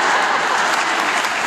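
Concert audience applauding and cheering, a dense, steady roar of clapping that fills the whole moment without a break, loud and close with no talk over it.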